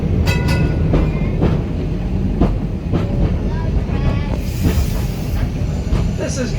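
A heritage tram runs on rails through Christchurch, rumbling with repeated clicks and clacks at the rail joints and a brief hiss, loud and close.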